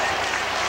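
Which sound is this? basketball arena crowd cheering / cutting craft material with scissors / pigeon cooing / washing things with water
basketball arena crowd cheering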